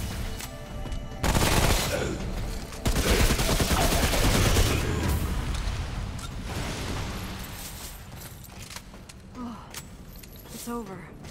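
Submachine gun fire in Remnant: From the Ashes rattles in dense sustained bursts, loud and close, over game noise before tapering off into scattered mechanical clicks and quieter effects.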